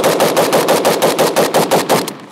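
Rapid burst of automatic fire from a short-barreled PSA AK-pattern rifle chambered in 5.56 and loaded with 55-grain ammunition, about a dozen loud, evenly spaced shots over two seconds before cutting off abruptly.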